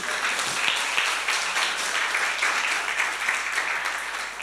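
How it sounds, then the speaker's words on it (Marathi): Steady applause from a church congregation clapping together at a sermon, a dense, continuous wash of many hands filling the whole stretch at even loudness without breaks. "तुम्ही टाळ्या वाजवाल का येशूसाठी?"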